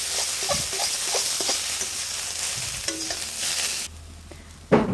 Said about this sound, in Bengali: তো সস দিয়ে ভালো করে মিশিয়ে নেব।